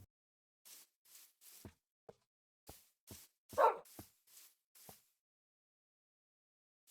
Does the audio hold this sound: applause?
no